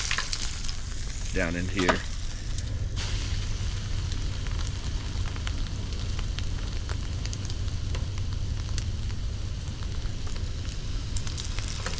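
Chicken frying in overly hot grease over a fire, giving a dense continuous crackling sizzle close by, with a brief voice speaking early on over the bubbling.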